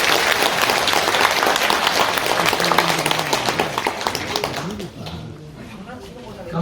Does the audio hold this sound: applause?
yes